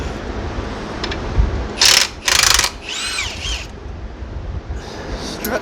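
Hand tools working on the spindle bolts of a Chevy Impala in a garage, with short bursts of loud ratcheting and metallic clicking over a steady background hum, plus faint talk.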